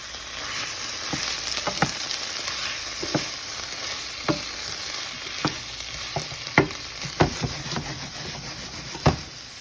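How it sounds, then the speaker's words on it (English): Roasted red peppers and onions sauté in a pan with a continuous close sizzle. Sharp scraping clicks from a stirring utensil come at irregular intervals throughout. "I've got some nice roasted red peppers and medallia onions that we are going to saute and let them cook down for a little while."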